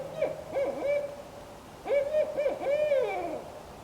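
A barred owl in the bush near Wasaga Beach gives clear rhythmic hoots at close range, two bursts of strong descending and wavering calls separated by a brief pause.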